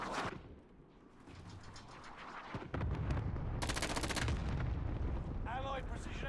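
Cluster strike explosions and gunfire in a battle royale video game: a sharp opening blast, then a heavy sustained barrage of booms and rapid shots, with a brief burst of bright crackling and a whooshing sweep near the end.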